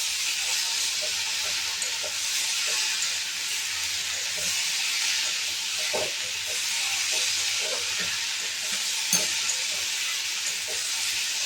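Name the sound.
prawns being stirred and fried in a pan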